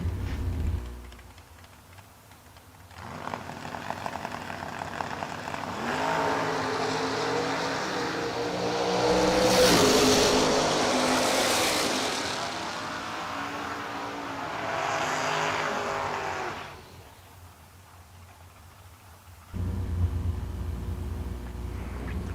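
Two drag race cars launch and roar down a racetrack in a Six Shooter Showdown, a loud engine blast swelling over several seconds and then fading away, with crowd ambience before and after.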